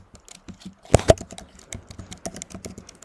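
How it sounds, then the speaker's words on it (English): Close, uneven typing on a computer keyboard, a pair of louder key strikes standing out among light clicking taps. "you might hear some typing"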